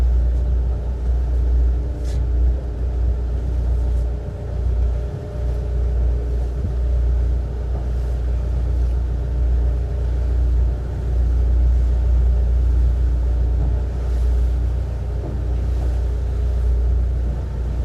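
A Nimbus T11 boat's engine rumbles low and steady under joystick throttle control, a continuous close drone with no pauses or voices over it.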